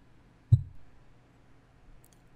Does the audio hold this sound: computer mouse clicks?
yes